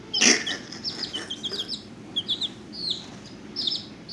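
A pet chicken clucks and chirps close by, a loud squawk at the start followed by a run of short soft clucks and higher chirps spread irregularly across several seconds.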